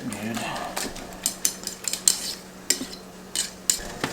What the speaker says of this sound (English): Just kind of whisk them around in there and get them mixed up good.